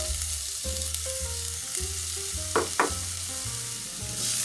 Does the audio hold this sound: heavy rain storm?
no